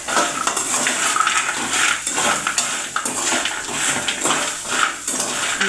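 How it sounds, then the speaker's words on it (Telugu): Pali chaat fries until crispy in a pan, a loud, dense crackling sizzle with rhythmic scraping swells throughout, no voices. "ఇలా వేయించుకోవాలి. చూడండి, క్రిస్పీగా ఎలా సౌండ్ వస్తుంది."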